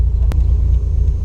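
A Dodge Viper heads up an on-ramp, its deep, loud engine rumble droning steadily from the cabin with a single faint click partway through.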